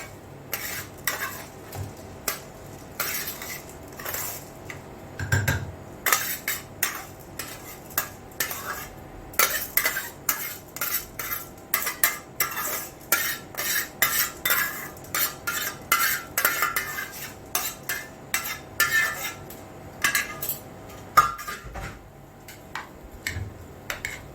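Two cups of rice poured and stirred into a metal pot on the stove, a long run of scraping and clinking strokes in a loose rhythm, close and moderately loud, with no talk.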